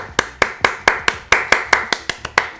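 A single pair of hands claps about a dozen times at a quick, slightly uneven pace, each clap crisp, close and loud, with no voices over it.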